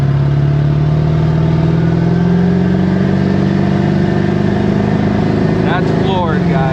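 A tuned Ford 7.3L Powerstroke diesel truck engine runs at full throttle, its steady loud drone slowly rising in pitch as it pulls hard, with a brief burst of voices near the end.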